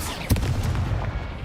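Incendio fire spell cast in Hogwarts Legacy, a sharp whooshing blast followed by a rumbling crackle of flame, loud and close, fading over a second or so.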